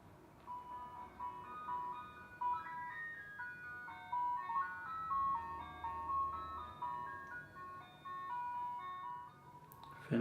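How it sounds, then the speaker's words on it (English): An ice cream truck rolls past outdoors, its jingle melody playing steadily for about ten seconds over a low engine rumble, drawing nearer and then fading slightly as it moves along. "Excuse me for a minute while the goddamn ice cream truck goes by."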